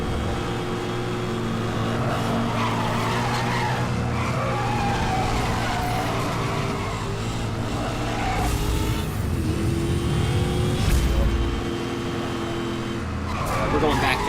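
Supercar engine roaring and tyres skidding in the racing game Need for Speed Hot Pursuit, a steady loud drone with a skid burst near the end, under someone talking.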